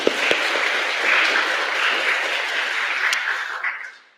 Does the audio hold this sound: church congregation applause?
yes